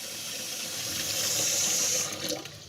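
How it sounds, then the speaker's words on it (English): Tap water runs steadily into a pot at a kitchen sink, a broad continuous splashing hiss that swells as the pot fills, then tapers and shifts near the end, with no voices. "you just go to the sink and you fill it up with regular tap water"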